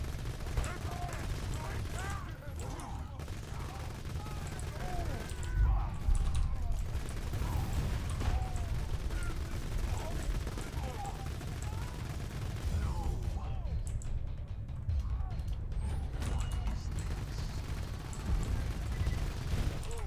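Rapid fire from the Infinity pistol in Borderlands 2, with bursts of shots and mechanical clatter running throughout amid game effects, loud and continuous with brief quieter gaps.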